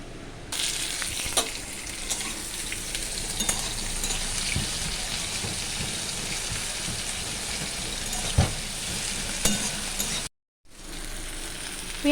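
Five-spice seeds and a whole dried red chilli sizzle in about four spoons of hot oil in a pan for a prawn and jackfruit seed curry, a continuous crackling fry with occasional stir clatters before a brief cut.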